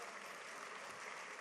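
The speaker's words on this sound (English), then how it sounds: "Please clap for yourselves." Audience applause at a women's leadership event, a faint, even wash of clapping from a distant crowd lasting about a second and a half.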